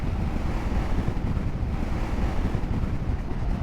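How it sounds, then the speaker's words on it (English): Strong wind buffeting a microphone on a motorcycle ride near palm trees, a loud, steady rumbling roar that continues throughout. "I think those palm trees take some wind"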